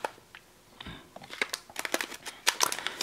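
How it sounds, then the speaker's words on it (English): Scissors snip and crinkle through plastic packaging of a Power Rangers Dino Charger toy pack, with several sharp close cuts and rustles clustered in the second half, no talking. "Let's get scissors, cut this one open."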